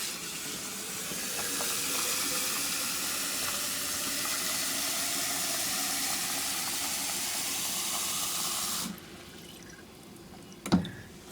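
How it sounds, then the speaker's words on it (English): Regular tap water runs into a homemade mason jar for an HHO generator, a steady broadband hiss of flowing water lasting about nine seconds before cutting off, followed by a brief clink. "We just take regular old tap water."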